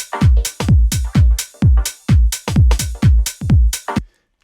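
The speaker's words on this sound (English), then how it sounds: "just the drums and the vocoder," A Roland-style 909 drum loop fed through a vocoder on its own, giving steady punchy kick-and-hit pulses about twice a second, each with a pitched, chordy synthetic tone, loud and upfront before stopping abruptly.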